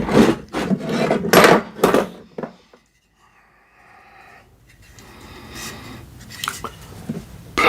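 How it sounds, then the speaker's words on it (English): A wood plane shaves strips off a piece of wood in a few loud, rasping strokes up front, then quieter scraping and handling noises follow after a short pause. "used for only planing wood, meaning taking pieces off a piece of wood"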